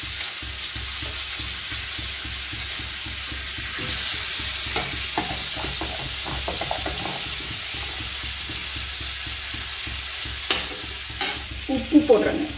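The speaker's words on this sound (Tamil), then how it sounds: "சாம்பார் கொதிக்குதுங்க, மிளகுத்தூள் போடுறேன்." Sambar, a lentil kuzhambu, bubbling in a pot and stirred steadily, with soft scraping and sizzling textures running throughout and a few sharper clinks of the spoon near the end.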